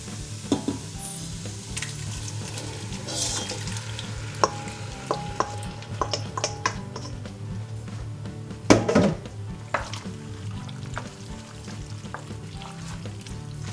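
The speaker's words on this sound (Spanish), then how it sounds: "Ya tenemos lista la cebolla, así que le incorporamos el tomate." Tomato added to softened onion frying in a pan for a vegan tomato sauce, giving a steady close sizzle with scattered stirring knocks and one louder scrape midway.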